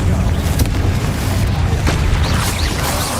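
A Confringo blasting curse in Hogwarts Legacy sets off a loud, heavy boom with crashing debris and rumble, followed by a few sharper bursts, with no talking.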